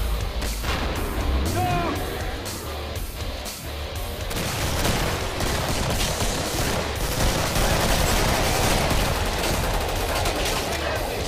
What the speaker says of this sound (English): I was shooting him right in the face